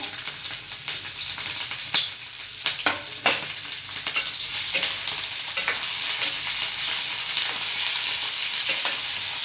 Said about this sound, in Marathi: तोरड्या कापलेल्या जाळ्या जाळ्या कापल्याने असं टाकून घ्यायच्या